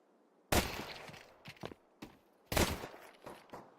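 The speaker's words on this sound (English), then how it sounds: "That's gonna be the first shot of the round" Shots ring out in a competitive pro-league shooter match, two sharp loud reports about two seconds apart, each followed by shorter clicks and bursts of game sound.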